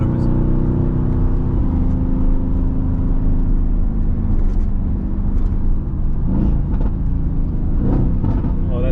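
A tuned 2017 Mercedes-AMG GT with upgraded turbos drives on a highway, its engine a loud, steady rumbling drone heard from inside the cabin that swells as it accelerates, with brief voices near the end.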